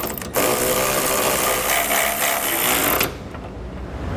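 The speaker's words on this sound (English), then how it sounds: "I'm gonna come back with a 19 millimeter socket and I'm gonna snug up my M12 bolts" A 19 mm socket snugging M12 bolts while installing a trailer hitch receiver on a 2012 Chevrolet Equinox, heard as a loud, steady mechanical rattle that starts abruptly, runs for about three seconds, then cuts off.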